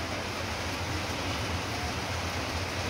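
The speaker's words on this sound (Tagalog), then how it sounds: "Ang lakas ng ulan guys." Heavy rain pours down steadily outdoors in a dense, even hiss that never lets up, with no one speaking.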